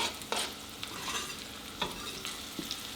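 Onions and green chilli with their seeds frying in a pan for a fish curry, a soft steady sizzle with a few sharp stirring scrapes and clicks, moderately close and fairly quiet.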